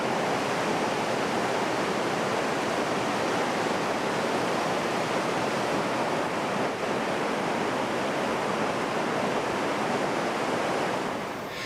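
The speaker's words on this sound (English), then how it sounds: "more than 100 million gallons of water filled the dock over several" Water pours into a huge dry dock holding an aircraft carrier, a constant dense roaring rush like heavy surf or a waterfall, steady and loud throughout with no voices.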